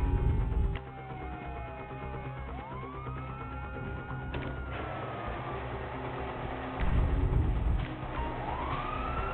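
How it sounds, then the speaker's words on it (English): Police sirens in Grand Theft Auto V wail and sweep up and down over rumbling traffic noise, loud and continuous, with engine roars swelling at points. "you hear that? Sirens."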